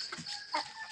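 Chickens clucking at feeding time, a brief burst of close, busy fowl calls over a noisy background.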